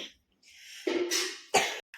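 A child coughs close by in a few short, rough bursts with brief pauses between them.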